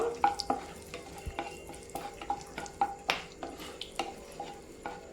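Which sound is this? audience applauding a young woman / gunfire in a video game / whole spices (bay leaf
whole spices (bay leaf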